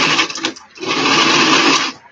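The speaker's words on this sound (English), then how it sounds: "I'm going to do a quarter inch seam all the way around this peak." An old sewing machine runs a quarter-inch seam around the peak of a flat cap, stitching in a steady rapid whir with a brief stop-start at first, then running continuously and loud before halting.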